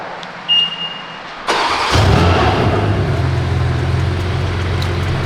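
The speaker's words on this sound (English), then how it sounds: "The two newest cars in the fleet, the Trackhawk and this car, both have remote start." A BMW M4 Competition fires up by remote start: after quiet with a brief chirp, the engine cranks and catches with a loud burst, then settles into a steady, deep idle close by.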